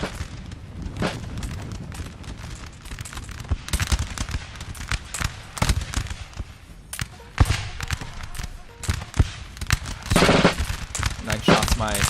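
Musket volleys from militia and line infantry in a Napoleon: Total War battle, rapid crackling shots and booming bursts firing continuously and densely throughout, loud and close, with game voice and sound effects mixed under the gunfire.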